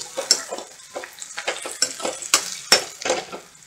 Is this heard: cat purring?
no